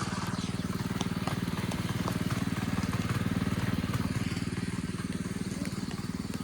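A steady, rhythmic engine chugs loudly and continuously nearby, a tractor ploughing a field for rice sowing with a throbbing low pulse and some rattling.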